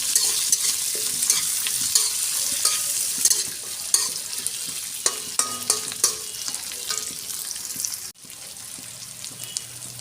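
Spices for chicken curry with garlic and ginger being stirred and fried in a pan, a steady sizzle broken by repeated scraping strokes of the spoon, loud and close, with no talking.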